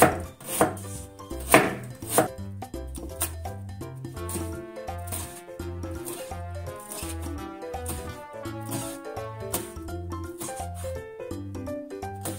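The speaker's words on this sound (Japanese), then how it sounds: "このかぶらも薄く切ります。" A knife thinly slices turnip on a cutting board, a few heavier strokes first, then a steady quick rhythm of thin slicing taps, close and clear.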